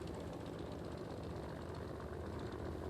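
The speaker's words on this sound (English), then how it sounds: "That's an old Beech 18 taxiing in." An old Beech 18 aircraft taxis in, its engine droning at low idle, a continuous rumbling propeller hum with no talking, holding level throughout.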